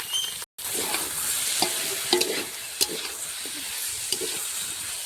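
Ginger-garlic paste, chili paste and onion paste fry with potatoes in a pan, a steady hissing sizzle heard close, with a brief cut near the start and a few soft scrapes and taps of stirring.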